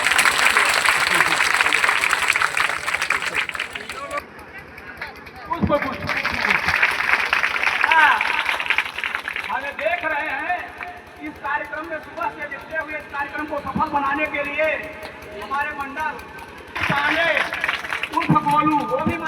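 An audience at a state minister's land-worship ceremony for a village panchayat community hall applauds loudly in sustained bursts, mixed with crowd noise and a voice over a loudspeaker.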